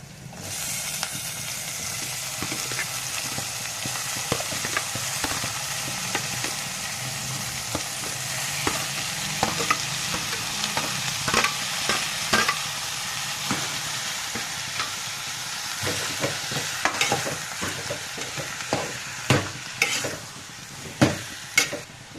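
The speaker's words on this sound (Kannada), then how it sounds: "ನೋಡಿ, ಈಗ ಕಟ್ ಮಾಡ್ಕೊಂಡಿರುವಂತಹ ಟೊಮೊಟೊ ಹಾಕೋಣ." Chopped tomatoes sizzle steadily in a pan while a spoon stirs them, the frying hiss constant and close, with scraping and clinking strokes growing more frequent toward the end.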